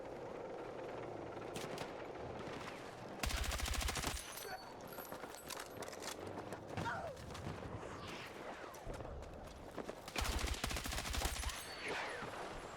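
Tank fire and surrounding combat in a Battlefield 6 Conquest match on the Eastwood map: bursts of heavy rapid gunfire and loud blasts over a busy battlefield din, with occasional distant shots between the louder volleys.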